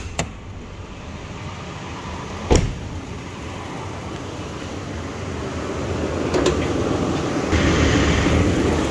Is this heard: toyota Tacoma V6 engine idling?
yes